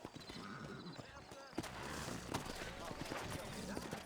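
Horses clip-clop along in a Western video game set in New Austin, a steady rhythm of hooves running under a continuous noisy bed of game ambience, with a sharp louder hit near the middle.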